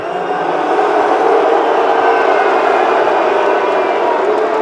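A large arena crowd roars at a PGL Major esports quarter-final in Antwerp between NAVI and HEROIC, a loud, steady wall of cheering and noise that holds without a break throughout.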